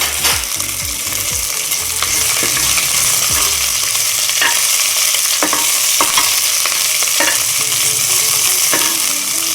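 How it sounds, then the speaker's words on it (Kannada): Mustard seeds, curry leaves and chopped onions fry in oil with a loud, steady sizzle, punctuated by scraping stirs and sharp popping crackles. "ಸಾಸಿವೆ ಸಿಡಿತಾ ಇದೆ, ಅದ್ರ ಜೊತೆಗೆ ಕರ್ಬೇವಿನ ಸೊಪ್ಪು, ಆಮೇಲೆ ಹೆಚ್ಚಿಟ್ಕೊಂಡಿರೋಂಥ ಈರುಳ್ಳಿ ಇಷ್ಟು ಹಾಕಿ ಫಸ್ಟ್ ಫ್ರೈ ಮಾಡ್ಕೊಳ್ಳಿ."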